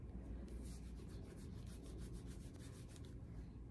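Hands steadily rub through hair while butterfly locs are twisted in after hair glue is applied, a close, continuous dry brushing and scrubbing texture with no talking.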